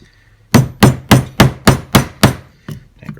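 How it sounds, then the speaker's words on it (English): A polymer hammer drives a frame pin into a pistol while a short stroke kit is installed. Seven sharp, evenly spaced taps ring out close and loud, then two fainter knocks follow. "Take your polymer hammer, drive your first frame pin in."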